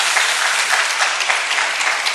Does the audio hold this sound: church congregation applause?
yes